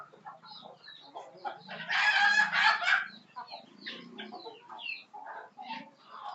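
A flock of chickens clucks close by while drinking vaccine-treated water, giving a busy stream of short clucks, with one louder drawn-out squawking call rising in the middle.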